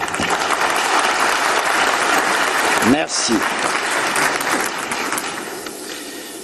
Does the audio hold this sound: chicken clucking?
no